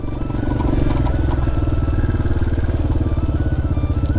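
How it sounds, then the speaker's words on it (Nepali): A motorcycle engine labours steadily and loudly up a muddy, slippery village road, with a dense low rumble and rapid rhythmic firing throughout and no talk. "यतिको बाटो नचढे के बाइक हो"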